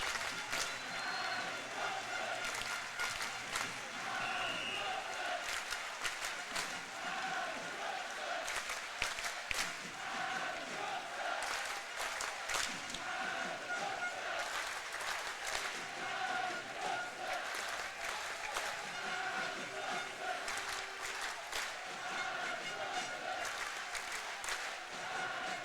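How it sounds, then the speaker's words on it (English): At the NIHL Final Four ice hockey final, an arena crowd rises for a standing ovation, producing sustained, even applause across the whole stretch. Scattered claps and faint voices sit within the broad wash of clapping. "hockey fans of all teams come together here to stand and applaud in memory of Adam Johnson"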